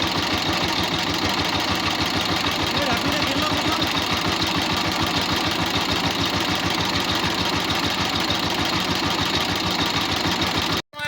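A tractor engine idling with a steady, loud mechanical chug that holds unbroken for about eleven seconds before cutting off abruptly at the end.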